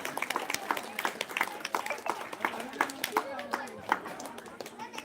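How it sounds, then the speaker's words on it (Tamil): Villagers clap for the prize winners at a street anniversary festival's children's race awards. The applause is scattered and moderately distant, with irregular claps running under an announcer's voice. "கை கைத்தட்டி உற்சாகப்படுத்துங்க"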